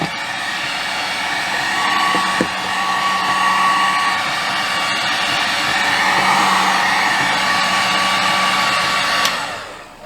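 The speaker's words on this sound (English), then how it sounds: "so I brought the old heat gun in. Let's put her on low heat, heat one of these up a little bit" Heat gun on its low heat setting, used to warm a stiff old faucet nut, blows a steady close whooshing airflow with a faint whine that runs without a break for the whole stretch, no voices.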